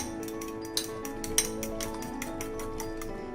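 A utensil briskly whisks an omelette mixture of eggs and chopped green chilies in a bowl, making a rapid regular series of light clinks and taps, close and steady, with a couple of slightly louder knocks.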